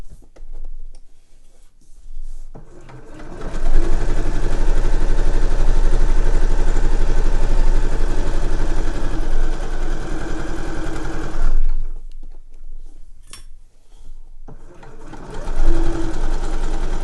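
A sewing machine stitches a festive cushion cover seam in a long, loud burst of rapid whirring, pauses briefly, then resumes in shorter runs.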